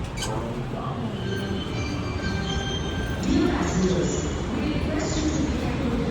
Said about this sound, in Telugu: వచ్చింది మనకు టక్ టక్క టక్క మెట్రో